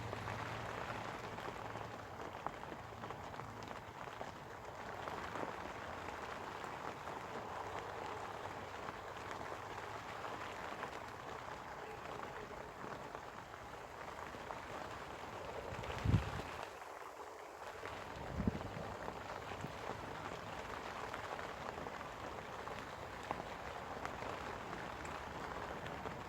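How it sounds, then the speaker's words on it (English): Steady rain patters on a surface outdoors on a carp fishing trip, a soft continuous hiss that runs unbroken, broken only by two brief sharp knocks partway through. "As you can possibly hear, it's raining."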